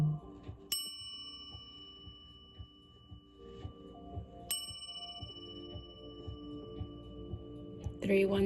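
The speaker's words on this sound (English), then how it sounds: "let's ring this bell" A small bell is struck twice, each strike ringing out with a clear sustained tone that slowly fades, while a person speaks quietly throughout.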